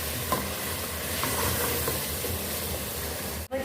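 Chicken sizzles steadily in about two tablespoons of hot oil in a pan while being stirred and sautéed, a continuous frying crackle close by with occasional scraping, no voices.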